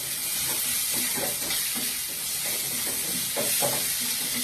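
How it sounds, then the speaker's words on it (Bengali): Eggplant fries in a pan with turmeric as a spoon stirs it, giving a soft, steady sizzle with faint rhythmic scraping strokes close by. "হলুদগুলো দিয়ে দিলাম, দিয়ে নাড়তে থাকছি।"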